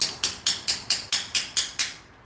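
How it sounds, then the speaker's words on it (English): Nine sharp metallic hammer blows ring out on a socket driven onto a pilot bearing, evenly spaced about a quarter second apart, loud and close, each with a short bright decay, ending in quiet. "Little bigger hammer."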